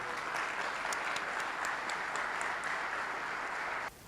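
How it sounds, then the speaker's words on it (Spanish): An audience at a national gathering of priests breaks into steady applause, a dense, even patter of many hands that holds until it cuts off abruptly near the end. "Les pido un aplauso"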